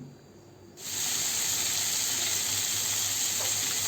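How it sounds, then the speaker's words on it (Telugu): Tomatoes with salt frying in a pan with green chilies and turmeric, a steady loud sizzle that swells in after a quiet moment and hisses on without pause. "టమాటీ మగ్గేదాకా మనం దీన్ని వేగిస్తూనే ఉండాలండి"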